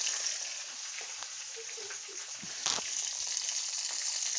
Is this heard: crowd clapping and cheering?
no